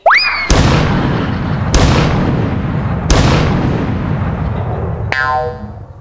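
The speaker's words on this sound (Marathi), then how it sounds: "या पंचला त्याने 3 तोफांची सलामी दिली बघ" Three deep cannon-salute booms land as a comedic sound effect, each a loud sudden blast with a long rumbling decay, spaced about 1.3 seconds apart after an opening rising boing and ending with a ringing tone.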